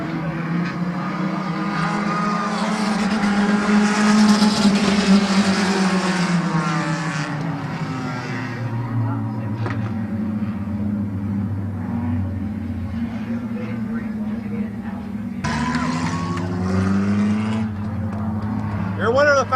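Race cars roar through a heat at Midvale Speedway, a dirt oval, their engines a loud sustained drone that rises and falls as the field passes, with a track announcer talking over the noise throughout.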